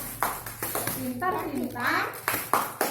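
A group of adults at a social-worker training session with elderly participants claps a rhythmic patterned cheer, sharp clustered claps alternating with sung or chanted voices, close and fairly loud.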